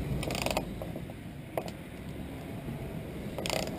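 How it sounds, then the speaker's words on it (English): Ratchet wrench working a loose alternator bolt on a 1999 Nissan Altima, giving a few short mechanical clicks and clacks in bursts near the start and end, close by over a low background hum. "get the ratchet on there"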